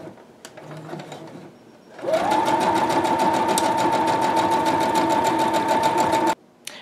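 A sewing machine stitching a fabric bowl: after a quiet moment with faint handling noise, the machine starts and runs in a loud, steady whirring hum with rapid rhythmic needle clatter for about four seconds, then stops abruptly.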